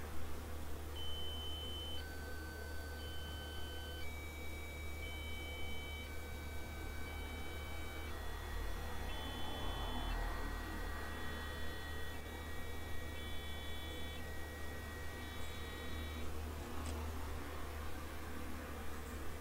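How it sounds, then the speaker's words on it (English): Quiet electronic buzzer tones from an FPGA development board step through a sequence of steady pitches, some overlapping, over a low background hum with no voices. "Here's what the sound on the card sounds like after I put some buzzer code in."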